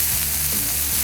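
Sausages sear on a Camp Chef griddle with a loud, continuous, close sizzle that stays dense and even throughout.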